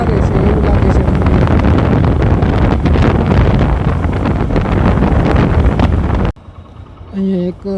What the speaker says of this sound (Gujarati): બહાર પવન થોડો વધારે છે એવું લાગે છે મને.